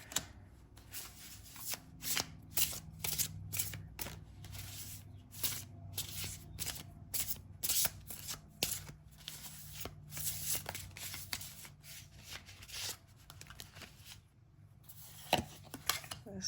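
Tarot cards are shuffled and handled by hand in a quiet room, giving soft, rapid riffling and flicking clicks in irregular bursts, close and fairly faint.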